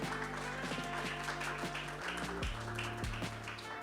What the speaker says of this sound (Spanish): Sí, un aplauso, la verdad.